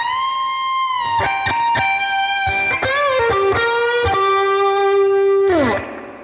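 An electric guitar plays a blues lick through distortion, with picked notes, string bends and a final sustained bent note that fades out, loud and close with no talking.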